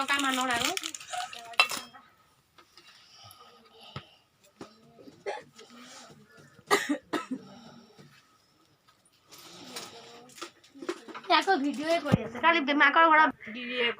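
Bell metal dishes clink and clatter as they are handled in a shop, with scattered metallic knocks between stretches of people talking nearby.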